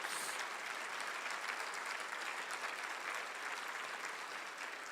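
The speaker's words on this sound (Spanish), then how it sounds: "Dale un aplauso de gloria al Señor." A church congregation applauds in sustained, dense clapping that fills the whole stretch at steady volume, with no talk over it.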